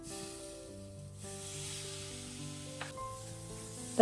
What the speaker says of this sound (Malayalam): ഒന്ന് ഇളക്കിയെടുക്കുക. ഈ പൊടിയുള്ളത് കാരണം തക്കാളി ഇങ്ങനെ വഴന്ന് കിട്ടാനായിട്ട് കുറച്ച് താമസം ഉണ്ടാകും.